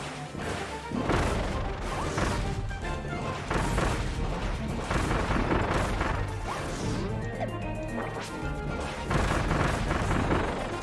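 Repeated crashing blasts and smashing impacts from remotely detonated explosions in Kirby and the Forgotten Land, dense and loud throughout with game effects layered between the bursts.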